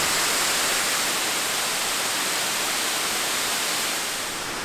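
Kuang Si waterfall at night, a loud, dense, unbroken roar of falling water, close and steady throughout.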